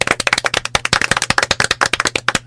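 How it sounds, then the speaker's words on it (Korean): A small group in a late-night live broadcast clapping after a Korean presidential election result is confirmed, with quick, sharp, close hand claps in a fast, uneven patter that carries on steadily. "일단 박수 한번 다시 시작합시다"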